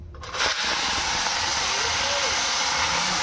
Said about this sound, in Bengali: কুলটাকে ধুয়ে এখন ফোড়নের মধ্যে দেওয়া হলো।